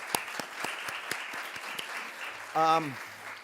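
A conference audience applauds at a history event, scattered claps at first building into light clapping, with a brief voice cutting in near the end.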